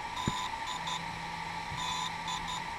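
DJI Inspire 1 T600 drone beeping after a firmware update, repeated electronic tones in short groups over a steady fan-like hum, fairly quiet and close.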